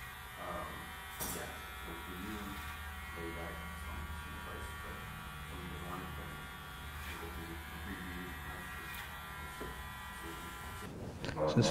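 Electric hair clippers buzz steadily up close while doing bulk cutting on curly hair, with talk running over the hum throughout.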